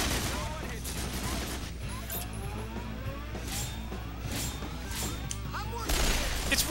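Rapid video-game gunfire crackles in the JRPG Resonance of Fate, bursts of shots over a continuous mix of in-game music and effects, with a heavier blast near the end.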